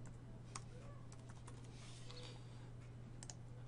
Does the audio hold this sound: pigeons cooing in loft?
no